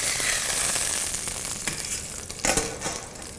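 Meat sizzles steadily in a hot pan with a constant crackling hiss, joined by a few scraping and clattering stirs as it is moved about.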